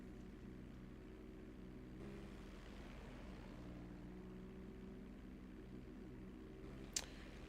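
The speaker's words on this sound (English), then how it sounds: "we'll just enjoy this plane" A plane flies along in GTA Online, a faint, steady engine drone holding evenly throughout with a brief sharp click near the end.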